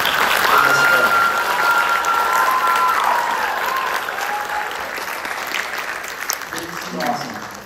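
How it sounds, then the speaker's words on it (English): An audience at a film screening about women's Olympic water polo gives a final round of applause, loud and continuous at first, with a few whistles early on, then thinning gradually toward the end. "Just one final round of applause for the athletes, the coaches in this film."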